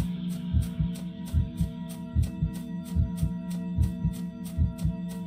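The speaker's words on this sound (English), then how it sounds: "My heartbeat" A steady heartbeat in a horror game thumps in regular doubled beats, close and muffled, over a constant low droning hum.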